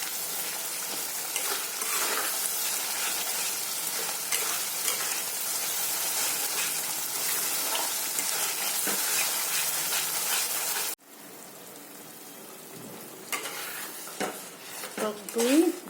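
Spice paste sizzles and fries steadily in a hot pan while being stirred, with scraping and pan clatter, for a Bengali rohu fish curry with coconut; the sizzle drops abruptly, then softer stirring and clinks follow.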